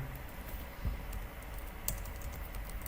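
Soft keystrokes tap on a computer keyboard while typing subtitles in Adobe Premiere Pro 2020, faint and close over a low room hum with no speech.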